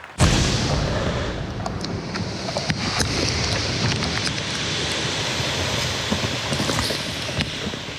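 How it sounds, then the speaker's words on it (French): A controlled demolition blast goes off in the Amazon rainforest of French Guiana as rain begins: a sudden sharp onset, then a sustained broad roar with rain patter and scattered crackles and thuds of falling debris. "Pour la dernière explosion de la journée"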